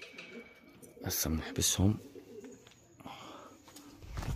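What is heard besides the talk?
pigeons cooing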